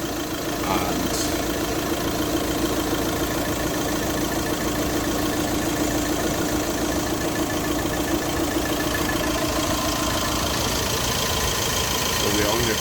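A diesel engine idles steadily throughout with a constant mid-low drone, close by, while someone talks over it during a particulate filter pressure sensor check.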